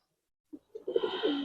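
A pair of Homer (herikel) pigeons cooing: brief silence, then a short soft note followed by a run of throaty, rising-and-falling coos close by, swelling into a sustained murmuring call.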